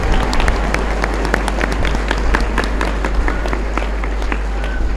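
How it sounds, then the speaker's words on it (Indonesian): Audience at an Islamic religious gathering at a boarding school in Kediri breaks into applause, a dense, steady burst of many hands clapping that holds for several seconds. "Tepuk tangan gitu, tangan."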